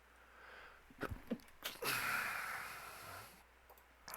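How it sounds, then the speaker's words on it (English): A single quiet sneeze after a couple of sharp breaths, followed by a breathy exhale in a quiet room. "Gonna sneeze."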